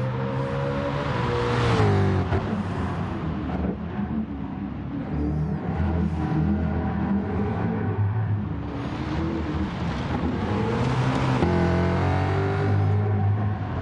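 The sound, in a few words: car engine sound in GT Sport video game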